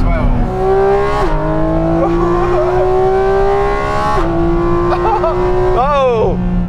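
Porsche 911 GT3 or GT4 RS sports car engine revving loudly on a race track, steady high-pitched howl with sharp pitch drops at gear changes and a final rising-falling rev burst.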